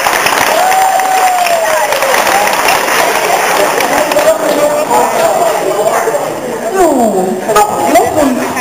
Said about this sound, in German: Ja, Applaus für die drei.